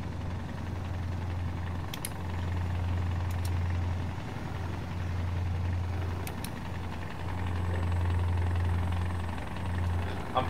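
A Kenworth truck engine idles with a steady low rumble that swells and eases in slow waves, close and continuous, with a few faint higher clicks over it and no talk.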